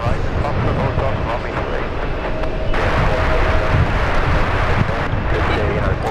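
A British Airways jet rolls for takeoff on runway 28 at San Francisco International Airport, giving a steady, loud roar of engine and rushing noise from a distance that swells partway through.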